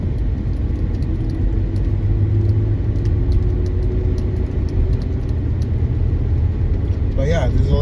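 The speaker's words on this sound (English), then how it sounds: "there's a lot of traffic here" Steady roar of heavy road traffic with cars rolling past, a constant low engine and tyre rumble filling the whole stretch, with a brief higher sweep near the end.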